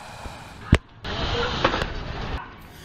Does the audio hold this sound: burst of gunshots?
yes